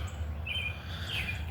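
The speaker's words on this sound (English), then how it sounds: "Sorry about the birds." Birds chirp in a garden on a morning outdoors, two brief high, thin calls over quiet background ambience.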